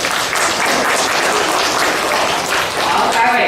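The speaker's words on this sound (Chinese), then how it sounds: "来5年4班热烈掌声。" Loud applause greets a fifth-grade class, Grade 5 Class 4, at a primary school project presentation contest: dense, continuous clapping from a large audience lasts the whole few seconds without a break.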